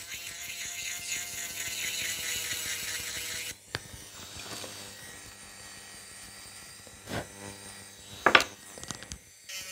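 A gel nail extension is filed from underneath with quick rubbing strokes, soft and close, against a steady mechanical hum, followed by a few scattered scrapes and taps.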